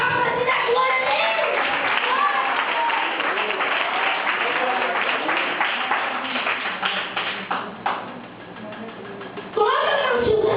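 A church congregation claps their hands at a service where a seven-year-old boy is preaching, rhythmic group clapping that thins out briefly and then resumes, with voices speaking and calling out over it.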